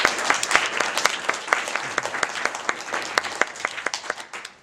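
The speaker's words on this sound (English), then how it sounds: "let's just have a round of applause for the people that helped" A keynote audience breaks into applause, many hands clapping close and loud with distinct individual claps standing out before the sound tapers off at the end.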